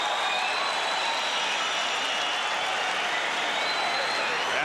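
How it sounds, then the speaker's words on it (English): Boxing arena crowd cheering and applauding loudly after the second round of a heavyweight bout, a dense, continuous roar of clapping and shouting that holds steady throughout. "This crowd cheering the action that took place in the second round"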